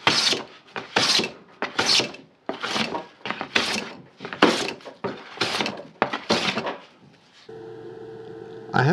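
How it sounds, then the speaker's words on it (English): Traditional hand tools flatten and smooth freshly cut wooden pieces for a mobile paint and art box, making about a dozen close, rhythmic rasping strokes. A steady tonal hum follows at the end. "I'm flattening every piece here as you can see and getting it nice and smooth"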